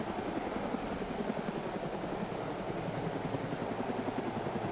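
Helicopter rotor thumping with a steady rhythmic chop and engine drone in the zombie survival game DayZ, fairly loud and constant throughout, no talk.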